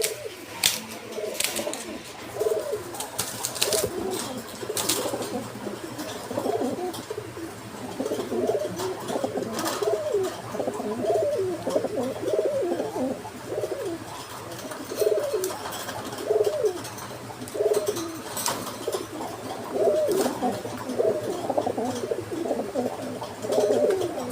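Several pigeons, a young bird about two months old and a two-year-old Girribaz, coo steadily and scuffle close by, the throaty coos rising and falling in overlapping bursts with wing flutters throughout.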